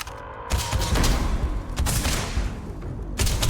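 Bursts of heavy gunfire in Starfield boom and rattle in dense, loud volleys, with a brief pause before a final renewed burst.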